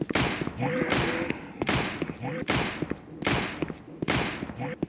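Repeated gunfire in a Roblox zombie survival game, loud bursts recurring at a steady rhythm roughly every second, with a voice talking underneath.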